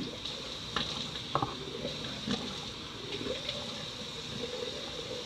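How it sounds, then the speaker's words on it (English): Hot water runs from a sink tap during a nighttime skincare routine, a steady soft splashing hiss with a few faint clinks and knocks throughout. "I'm gonna be opening the hot water"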